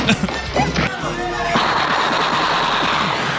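A beatboxer's voice mimics gunfire in a movie scene, giving sharp percussive bursts followed by a sustained rattling, crackling stream of rapid shots, loud and close.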